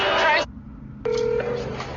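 A telephone placing an emergency call to police gives a burst of electronic dialing tones, a short pause, then another electronic tone pattern, clear and close.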